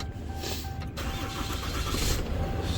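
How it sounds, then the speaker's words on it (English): A truck engine cranks and catches, its starter whir giving way to a steady low rumble that settles into a running idle, close and moderately loud, with no talking over it. "Start up your truck."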